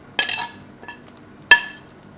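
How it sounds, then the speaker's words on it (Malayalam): A sardine mixture is stirred in a pot, marked by a few sharp metallic clinks of a spoon against the pot, with a short rattle and then a single bright tap. "നന്നായി ഇളക്കി കൊടുക്കുക."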